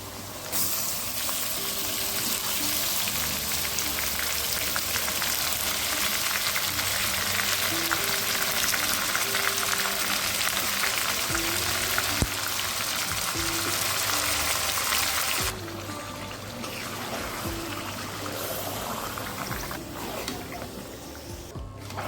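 Chicken pieces hitting hot oil with already-fried crispy onions, a steady broadband sizzle and frying crackle that carries on evenly for most of the stretch, then drops slightly softer near the end.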